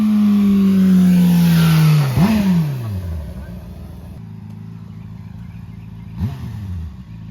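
A Honda CBR600RR motorcycle held in first gear screams at high revs, then the engine note drops sharply and idles, with a brief throttle blip later on.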